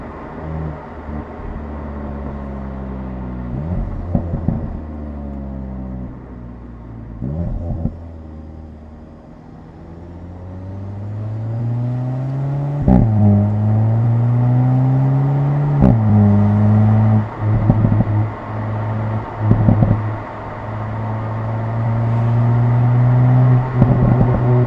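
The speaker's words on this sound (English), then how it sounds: "Here's a clip with a microphone mounted next to the exhaust." VW Golf 8.5 GTI exhaust recorded up close with the microphone beside the tailpipe, a deep loud rumble that rises and falls through several revving sweeps with steady droning tones, no talking.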